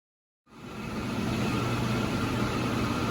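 After a brief silence, a repaired car engine starts up and settles into a steady, even idle, running smoothly and close by.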